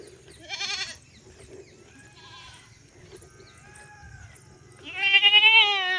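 Newborn goat kid bleating in short, wavering cries, one near the start and a louder, longer call at the end, with softer faint bleats between and a low rustling background.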